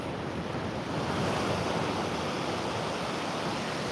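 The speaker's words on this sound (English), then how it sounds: "just let me know if those waves are too loud" Small ocean waves break and wash steadily on a shore close by, a continuous broadband rush of surf with a little wind and no voices.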